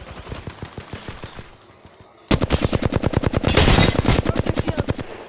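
Rapid automatic gunfire in the battle royale shooter Apex Legends: a fast, steady rattle of shots, then a louder, denser close burst after a brief pause, with no talk.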